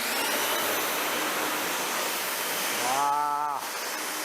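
Steady broadband hiss of an Active 2.0 pressure washer spraying water during car detailing, loud and continuous, with a brief whining tonal motor rise near the end as the jet cuts off.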